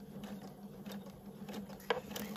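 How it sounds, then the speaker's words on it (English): A sewing machine stitching along the line of a quilt binding, a quiet, steady mechanical patter with light rhythmic clicks and one sharper tap. "All you're going to do is line this up and stitch on the line."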